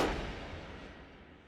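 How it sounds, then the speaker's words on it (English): A transition sound effect in a beat, a single booming, noisy impact that swells at once and then slowly decays into a long, washy rumbling tail, loud and alone. "And the very last thing that I added for this part are these transition sounds."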